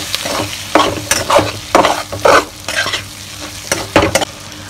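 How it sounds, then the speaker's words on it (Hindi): Peas stirred with salt, turmeric and coriander powder in a hot pan, loud close scraping strokes in uneven bursts over a light sizzle, no voices. "नमक, हल्दी और धनिया पाउडर डालकर हम इसको मिक्स करेंगे।"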